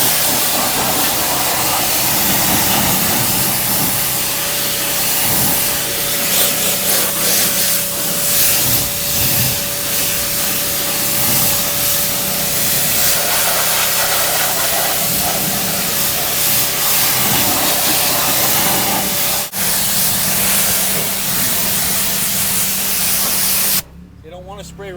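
Cleaning spray misted through a car interior during a carpet detail, heard as a steady, loud broadband hiss that runs almost unbroken for about twenty-four seconds before cutting off abruptly near the end.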